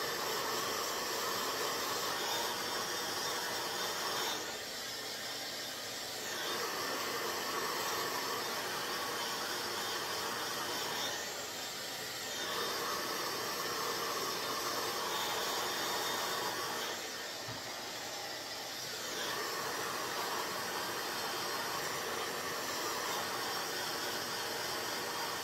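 A hair dryer on medium heat blows over wig lace, a steady close whooshing roar broken by three short dips as it is moved back and forth, with no talking.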